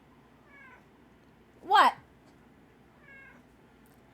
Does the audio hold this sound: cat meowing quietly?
yes